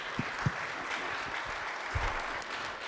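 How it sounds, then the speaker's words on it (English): An audience at an indoor stage event claps to welcome a speaker, a full, sustained burst of applause with a few sharper, louder claps standing out near the start and middle. "Give him a big round of applause."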